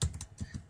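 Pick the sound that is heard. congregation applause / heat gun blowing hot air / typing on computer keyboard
typing on computer keyboard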